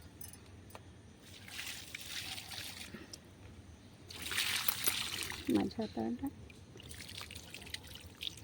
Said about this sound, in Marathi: पाणी आणलं आहे झाडाला टाकायला कारण इथे पाणी नाही आहे